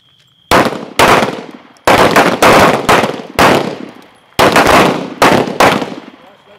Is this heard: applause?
no